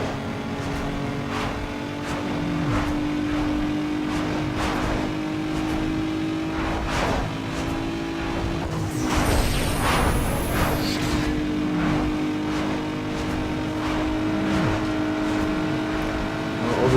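Racing car engine in Need for Speed Underground 2, a continuous loud revving drone that rises and drops with gear shifts, surging sharply midway with a whooshing burst before settling back into steady high revs.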